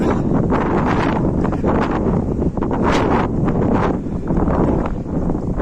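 Strong wind gusts buffet the microphone beside a small high-altitude mountain lake, a loud continuous roar rising and falling with no voices.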